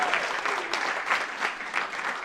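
Audience applause for award winners at a barbershop singing district event, a dense, steady wash of clapping from a large crowd with a few louder swells, no talking.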